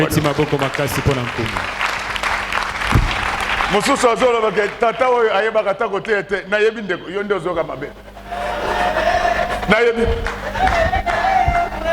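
Church congregation in Congo cheering and applauding during a Sunday sermon, loud sustained crowd noise with clapping, shouts and singing-like voices over a preacher's amplified speech, swelling again near the end.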